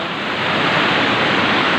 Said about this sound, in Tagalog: So dito maririnig mo yung agos ng tubig.